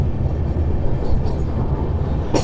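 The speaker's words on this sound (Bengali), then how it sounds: "ফারাক্কা ব্যারেজ দিয়ে পার করছে আমাদের এই ট্রেন।" An Amrit Bharat Express train rolls across Farakka Barrage with a steady, loud, low rumble of wheels and carriages, continuous throughout with a faint rattle near the end.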